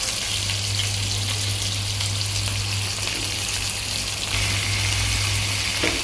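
Green chillies, onion and capsicum fry in a pan for a capsicum brinjal curry, giving a loud steady sizzle close by with a constant low hum underneath and a few faint stirring scrapes, no voices.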